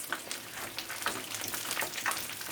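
Chicken fingers sizzle in a frying pan as they are turned with tongs, a close, steady crackling hiss with scattered pops and no voices.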